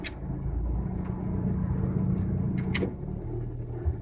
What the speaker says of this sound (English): If I switch it on, you should observe the increase in RPM.